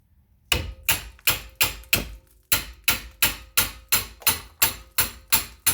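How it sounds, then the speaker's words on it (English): An impact wrench hammers at a rear brake caliper bolt in a run of about thirteen sharp, evenly spaced bursts after a short quiet start. It is loud and close, with each rattle cutting off quickly. "I am going to put my impact on the bottom one"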